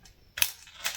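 Two short, crisp clicks as the safety key on an AlgoLaser Alpha 22W laser engraver is turned, close up and fairly quiet, with a brief pause between them.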